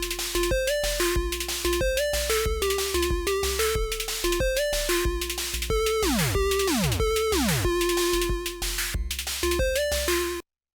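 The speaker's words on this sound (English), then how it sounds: "And now our drum pattern sounds like this." Chiptune drum pattern programmed on a Dirtywave M8 tracker with an open hi-hat: a steady, loud, looping beat of punchy synthetic kicks and hissy hats, with blippy pitched tones and a few fast downward pitch sweeps, running continuously with no talk.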